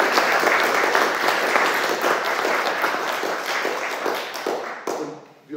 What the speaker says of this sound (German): einen Applaus für den Vortrag im Moment